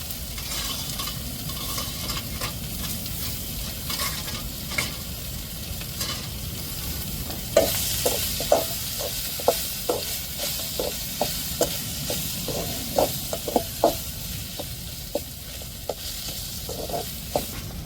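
Dried rock fish crackles and sizzles as it fries in a pan, a continuous close hiss broken by clinking stirring strokes that turn into a quick run of sharp taps midway through, with no talk.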